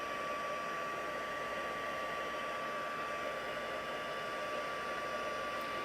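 A heat tool blows continuously while heat-setting a large Halloween stencil image, a faint, steady whirring hiss with a thin high whine throughout and no talking.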